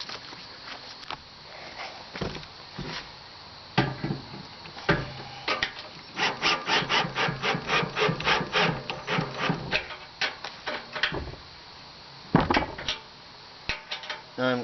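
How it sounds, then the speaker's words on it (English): A screwdriver and wrench drive screws into the metal faceplate of a barrel stove kit, producing scattered scrapes and knocks, then a run of rapid rasping turns in the middle and a few louder taps near the end. "I'm using the screwdriver just to help speed up the process a bit"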